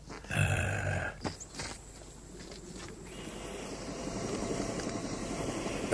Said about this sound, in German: Da ist ein Hubschrauber.